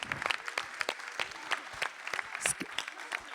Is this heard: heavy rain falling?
no